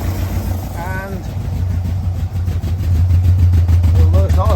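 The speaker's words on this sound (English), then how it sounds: "although it's not a very even idle, it is idling" An engine idles unevenly after warming up, with its idle mixtures untouched. The low, pulsing drone runs steadily throughout while a person talks close by.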